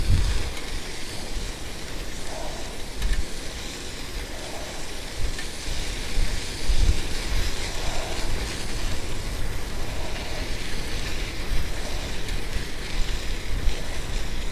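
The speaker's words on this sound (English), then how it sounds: "can you hear the wind sound?" Wind roars against a cyclist riding in cold weather, a loud, steady broadband rush with low buffeting thumps throughout.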